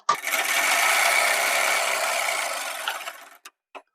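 A sewing machine runs steadily for about three seconds, stitching the sleeve of a collared blouse, then stops with a couple of brief clicks afterward.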